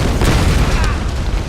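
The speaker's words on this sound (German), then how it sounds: "ich will über die Brücke, bevor sie explodiert." A bridge explodes in the video game Tomb Raider, with a loud, sustained, rumbling blast that fills the whole stretch.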